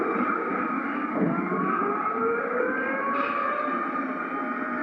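Dense city traffic in Delhi: a continuous loud roar of engines with honking horns and siren-like tones layered on top, steady throughout with no talking.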